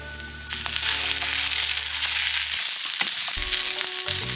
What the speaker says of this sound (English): you fry it till they're golden both sides